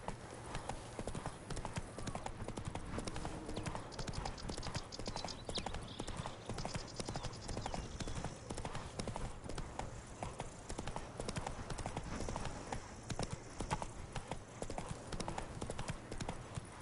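A horse gallops in the video game Witcher 3: Wild Hunt, with steady fast clip-clop hoofbeats running continuously and dense game ambience underneath.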